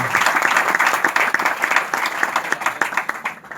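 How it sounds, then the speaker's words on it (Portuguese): A church congregation in Angola applauds loudly and steadily, with dense, close hand clapping that thins slightly toward the end. "Pode bater palmas se achar."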